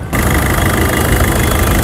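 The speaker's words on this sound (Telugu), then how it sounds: "ఇంజన్ వచ్చేసి చాలా స్మూత్గా అయితే ఉంది" A 2018 Maruti Swift Dzire ZDI diesel engine idles close by, a steady, even rumble with a light diesel clatter and no talking, running smoothly throughout.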